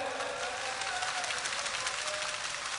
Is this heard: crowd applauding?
yes